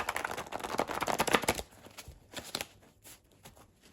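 Cards being shuffled in quick riffling bursts, louder at first, then softer, intermittent flicks near the microphone.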